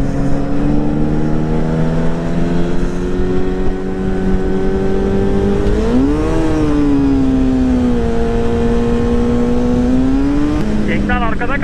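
A 1000cc ATV engine revs and drones steadily while riding near a gold mine in Efemçukuru, Menderes, its pitch climbing and dipping with throttle changes, close and loud under wind rush.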